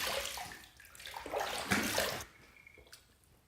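Water running from a tap while a shaving razor is rinsed, a short soft splashing rush that tapers off after about two seconds.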